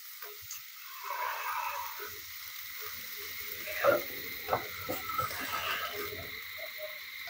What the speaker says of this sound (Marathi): अशा प्रकारे छान हे पाव भाजून घ्यायचे आहेत.